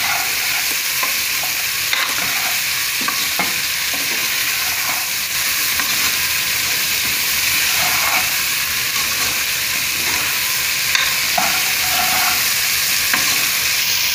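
Cauliflower sautés noisily in a hot pan for a peas kulambu, a loud, continuous hissing sizzle close by, with intermittent scraping and tapping from a stirring spoon throughout.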